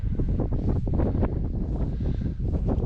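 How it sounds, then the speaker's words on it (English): Strong wind rising over a valley onto a hilltop ancient fort in Scotland buffets the microphone in loud, gusty roars, rising and falling continuously with no voices. "There's an extreme wind coming up over the valley from this side"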